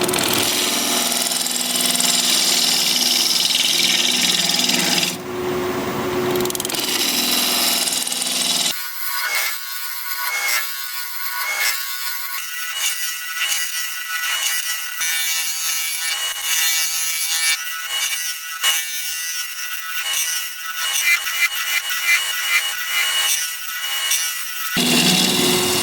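A turning chisel cuts into an apple wood root ball spinning on a lathe, a continuous loud scraping hiss with rapid chattering pulses as the tool meets irregular grain.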